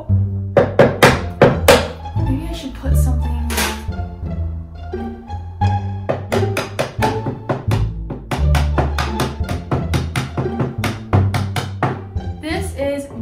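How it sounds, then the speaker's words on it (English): Repeated sharp knocks and taps of a small hammer crushing beads, in bursts with pauses, while a person talks intermittently. "So I'm gonna use my handy dandy little pink hammer here"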